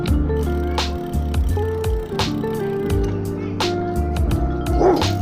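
A dog barks repeatedly in short, uneven bursts over a steady low engine-like drone, fairly close by, during an evening ride in Daytona Beach.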